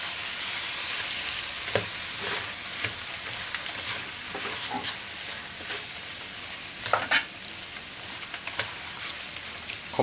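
Chicken frying and being stirred in a pot for a modern mulligatawny soup, a steady sizzle with scattered scraping and clinking stir strokes close by, no talking.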